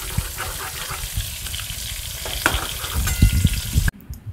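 Slices of pointed gourd (potol) fry in hot oil in a pan, giving a steady, close crackling sizzle with small pops that continues throughout and stops abruptly near the end.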